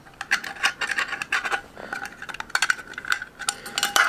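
Small metal tabs being pressed and scraped into the holes of an old tin can with pliers, giving a string of close, bright metallic scrapes and clicks in an uneven rhythm with no talking.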